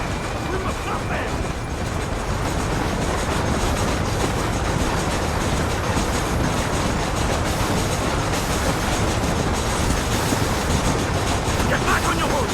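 Train rolling on rails in the Red Dead Redemption video game, a loud, dense rumble with rapid clattering and steady clickety-clack from the wheels, continuous throughout, with game voices faintly mixed in.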